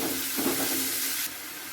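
Cut mango pieces dropped into hot oil for pickle make a sudden, loud hissing sizzle that carries on steadily and close, with a brief burst of crackle near the start and no talk.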